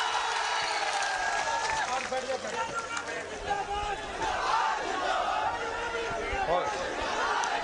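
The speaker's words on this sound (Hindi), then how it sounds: "जोरदार तालियों से स्वागत।" A huge crowd at a Bihar political rally welcomes Tejashwi Yadav and Imran Pratapgarhi with a dense, continuous roar of cheering, shouting and chatter that stays loud and unbroken throughout.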